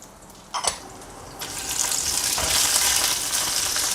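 Garlic cloves with red and green chillies hit hot oil, starting with a quiet hiss and a couple of pops, then swelling into a loud, continuous sizzle; nobody talks.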